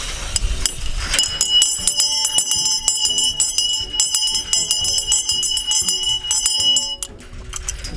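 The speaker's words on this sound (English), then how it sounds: "You need that bell to let them know" A hand bell rings loudly and rapidly, rung to call dogs roaming a fenced 40-acre property around an abandoned military nuclear bunker, with clanging strokes continuing for several seconds.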